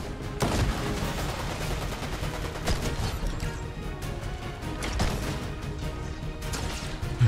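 Rapid gunfire from a powerful weapon in a ranked shooter match, bursts of sharp shots and impacts packed densely over several seconds, close and fairly loud with no voices.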